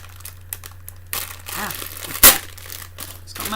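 Plastic wrap crinkling and crumpling up close while a present is being wrapped, a burst of rustling with one sharp crackle, over a steady low hum.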